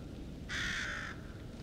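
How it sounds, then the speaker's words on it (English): A single crow gives one loud, rasping caw over a faint, steady ambient background in the horror video game Little Hope, near and clear with no speech. "There was some sort of crow or raven."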